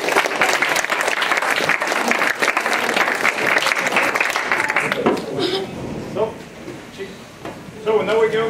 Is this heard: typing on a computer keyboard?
no